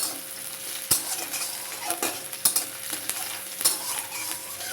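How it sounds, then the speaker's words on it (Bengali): Onion frying lightly with cumin in a pan for Bengali egg curry, a close sizzle with sharp spatula scrapes and clinks against the pan at irregular intervals, no talk. "পেঁয়াজটা হালকা ভেজে নেব"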